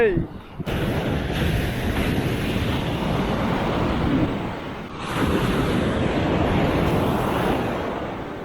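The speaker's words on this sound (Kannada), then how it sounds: "ಹಾಲಿನಂತ ಉಕ್ಕಿ ಬರುವ ಸಮುದ್ರ ಅಂತ ಹೇಳ್ಬೋದು" Sea waves surge onto the shore at Mangaluru in a broad, loud roar of surf with a swelling rush midway, wind buffeting the microphone throughout.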